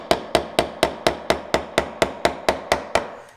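A hand saw is tapped down into wood to cut half-blind dovetails, giving about fourteen crisp, evenly spaced knocks that come close and steady, each fading quickly.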